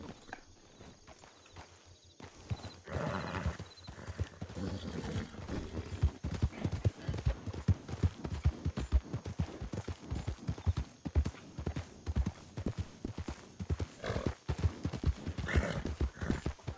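Horse hooves clip-clopping steadily at a walk in the Red Dead Redemption II roleplay game, with a faint whinny, continuous rhythmic thuds near and fairly loud, under intermittent talk.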